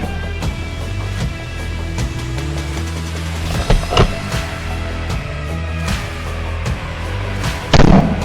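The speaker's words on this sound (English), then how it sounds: "The sound of gunfire echoes across the valley" Repeated sharp gunshot cracks ring out across a valley over a loud, continuous mechanical hum, their reports echoing briefly, with a heavier burst near the end.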